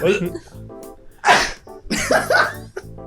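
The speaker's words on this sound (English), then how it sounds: "Just one sneeze." A single sharp sneeze bursts out among nearby voices talking.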